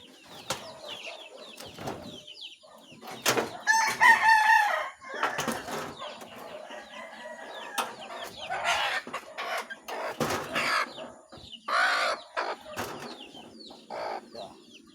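Chickens of a native breed being bathed give sharp intermittent clucks and squawks, close and loud in irregular bursts, with splashy handling noises between calls.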